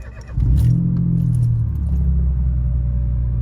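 A Citroen C1 engine cranking and catching after a fuel pump replacement, a brief starter whirr followed by a loud, close, steady idle with a rising then settling rumble.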